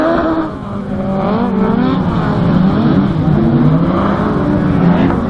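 Autograss race cars roar around a dirt track at St Neots, with several engines revving and rising and falling in pitch as they race close by. The sound is loud and continuous throughout, and no voices are heard.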